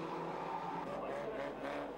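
A slightly remodeled Sierra stock car races around the track, engine note whining and rising as it passes, with tyre noise, heard somewhat distantly under a commentator's voice.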